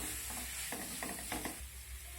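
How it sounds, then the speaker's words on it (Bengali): Mashed potato and jackfruit are stirred with spices in a pan for jackfruit chop, a few soft scraping strokes over a faint, quiet sizzle. "এবার ম্যাশ করে রাখা আলু আর এঁচোড়টা দিয়ে আমি নেড়ে চেড়ে মিশিয়ে নেব।"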